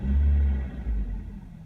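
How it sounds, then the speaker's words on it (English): A Nissan Sentra engine after a spark plug tune-up, settling into a low, steady idle rumble, close and even with no other sounds. "it's just keeping one good idle"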